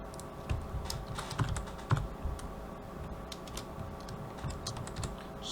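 Steady keyboard typing at close range, with quick irregular key clicks over a low background hum and a few slightly heavier strokes, while text is entered in a 3D design program.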